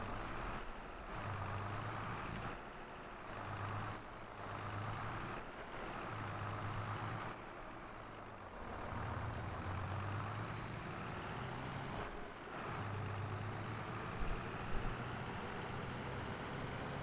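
Tractor engine in Farming Simulator 22, a quiet steady rumbling drone that pulses slightly and continues without talk.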